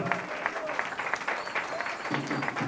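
Applause from a church congregation during a Spanish-language sermon, steady dense clapping with crowd noise and some voices mixed in throughout.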